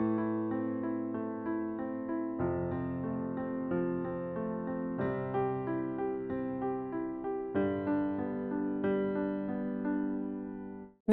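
Piano arpeggios in a 1-5-3-5 pattern in both hands, flowing evenly through several chord changes, with notes overlapping and ringing under sustain, played alone and close.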